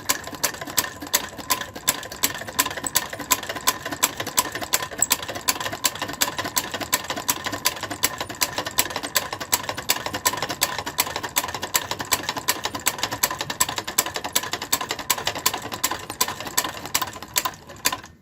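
A linker machine joins the seams of a knitted red sweater, running as a steady, rapid mechanical clatter with fast, even ticks throughout, close and continuous, with no talk.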